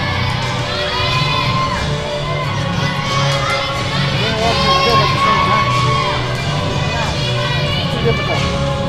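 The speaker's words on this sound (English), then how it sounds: "Cheering for her." A crowd cheers and children shout and whoop for a girl at a floor event, with overlapping excited voices rising and falling continuously throughout.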